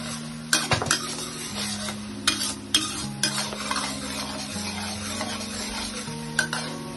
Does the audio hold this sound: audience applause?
no